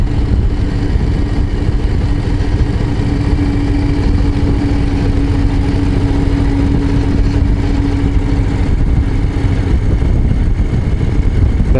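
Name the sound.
Harley-Davidson Low Rider ST motorcycle riding mountain pass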